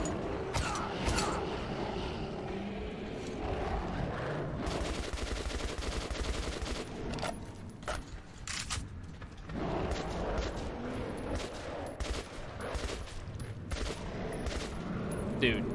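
Sustained bursts of automatic gunfire ring out in the Metro 2033 video game, loud and dense in the middle stretch with scattered single shots and mechanical clatter around them, with no talk.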